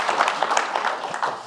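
Audience applause at a one-on-one forum with basketball player Jaylen Brown, a brief spell of scattered clapping with a slightly uneven rhythm that holds steady for a moment before easing off.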